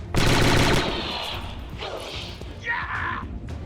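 A loud burst of rapid gunfire opens the XCOM 2 game, with Clone Armory expansion blasters, followed by mechanical clatter and a couple of fainter shots, under a player's talk.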